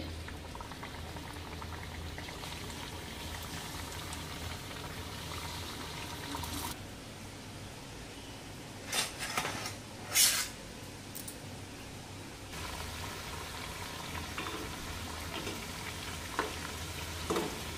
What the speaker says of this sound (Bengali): এখন একটা একটা করে নিমকি ওঠাবো আর ভেজে নেব।